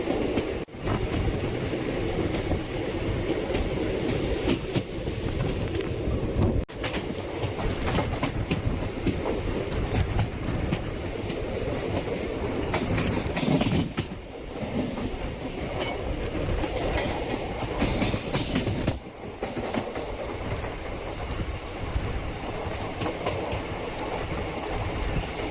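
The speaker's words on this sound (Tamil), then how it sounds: "Double 2646 Ahalya Nagari super fast express Thiruvananthapuram north to indoor." The Ahalya Nagari Superfast Express runs on the Tiruvannamalai North to Indore line past a moving train, giving a loud, continuous rumble of rail cars with clickety-clack wheel beats and a few short gaps, close and without voices.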